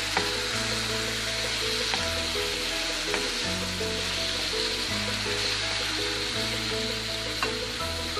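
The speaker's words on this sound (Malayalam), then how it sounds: "ഇനി നമുക്ക് നമ്മുടെ മട്ടൺ ഇതിലേക്ക് ചേർത്ത് കൊടുക്കാം" Mutton pieces stirred in a hot pan of ghee and masala for a ghee roast, a steady, loud sizzle with occasional scraping clicks from the stirring, no voices.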